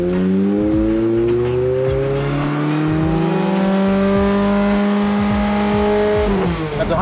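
A Toyota MR2 fitted with a Camry engine revs steadily on a dyno pull, its engine note climbing smoothly in pitch for several seconds, loud and close, before dropping off at the end.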